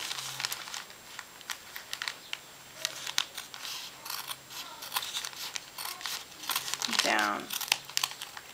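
Scissors trim fabric for a handmade quiet book, making quiet, irregular snips and crisp rustles of cloth close by, with brief crinkling handling sounds between cuts.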